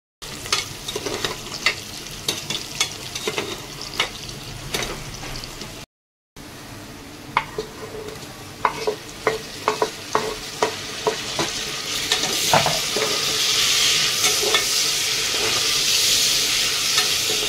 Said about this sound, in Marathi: आपला कांदा फ्राय झालेला आहे आता सध्या